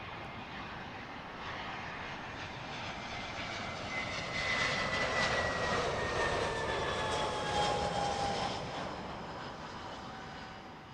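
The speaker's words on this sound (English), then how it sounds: "This British Airways A320 is about to touch down from Dortmund." British Airways Airbus A320 landing at Heathrow Airport, arriving from Dortmund: a steady distant jet roar that swells and peaks midway with a whining engine tone, then eases off slightly, with no voices.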